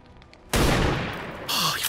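Gunfire in the XCOM 2 video game: a sudden loud burst of shots that rings out for over a second, then a second sharp blast, close and alone.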